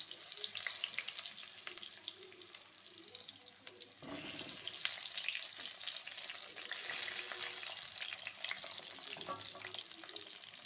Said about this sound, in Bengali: দেখো, কড়াইতে তেল দিয়েছি। এবার একে একে পটলগুলো ভেজে নেব।